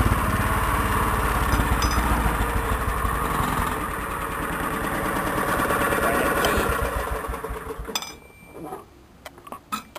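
Small Cushman utility vehicle engine running steadily up close during a short fall drive, a continuous rough buzzing drone with faint clinks, then cutting out near the end, leaving sparse quiet knocks.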